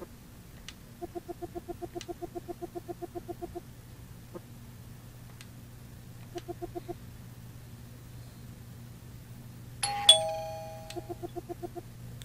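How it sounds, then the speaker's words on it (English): Video game One Night Stand on Nintendo Switch plays a doorbell: bursts of quick repeated electronic chimes ringing in short sets, with a brighter single ding near the end, clean and fairly quiet over a low steady hum. "No, it's a doorbell sound."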